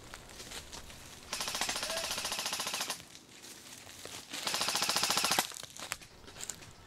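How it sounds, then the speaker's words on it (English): An airsoft M4 rifle fires during a desert airsoft game in two sustained full-auto bursts of rapid, even clicking shots, heard from up close over outdoor noise. "his M4 laying down even more firepower"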